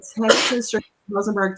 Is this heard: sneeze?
yes